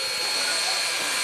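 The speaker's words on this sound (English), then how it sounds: "Today, folks, you are honored in the presence of a steam locomotive." Southern Railway 630, a 121-year-old steam locomotive at a railroad museum, gives off a steady, loud, broad hiss of escaping steam that fills the whole brief moment.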